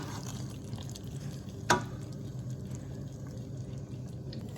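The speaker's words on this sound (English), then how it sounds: "we already put the pasta in the sauce, so we gonna mix" Cooked pasta is stirred through sauce in a pan, a low wet squelching and gentle sizzle with one sharp utensil clink, close and quiet.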